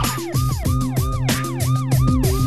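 An ambulance siren wails loudly and close on a country road, its rapid rising-falling yelp cycles repeating steadily over engine noise.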